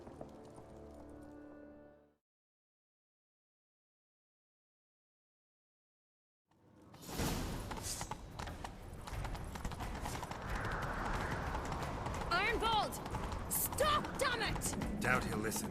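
Horse hooves clip-clop at a run in The Witcher 3 game after a brief stretch of music and a silent gap, the hoofbeats loud and near under a busy mix of game sounds and occasional voices.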